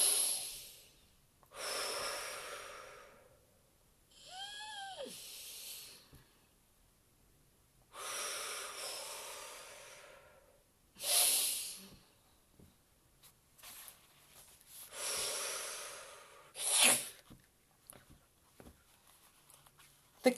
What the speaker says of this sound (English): cleansing breaths